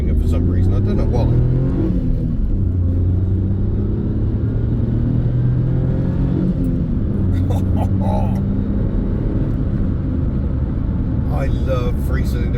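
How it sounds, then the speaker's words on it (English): A Daihatsu Charade L251 three-cylinder engine drones steadily while driving on the road, a low continuous rumble with shifting engine tones throughout. "I love 3-cylinder engines."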